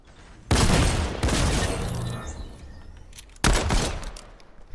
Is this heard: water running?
no